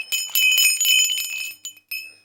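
Screws fitted as makeshift bells on a Kangal dog collar jingle with a bright metallic ringing, shaken in close bursts that fade and return briefly.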